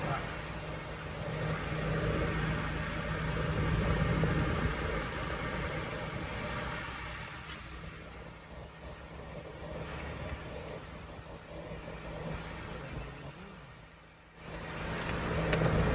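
A motorcycle engine runs at a steady idle during a minivan camping trip, a continuous low hum that dips briefly near the end before swelling again.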